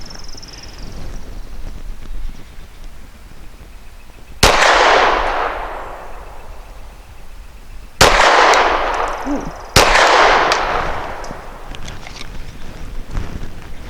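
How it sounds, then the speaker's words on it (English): Three loud, sharp pistol shots from a custom Glock 34 firing Nosler 115 grain ammunition at an outdoor range, each cracking and decaying into a long echo, spaced a few seconds apart over light wind noise. "I'm going to shoot for the very top, very left green circle."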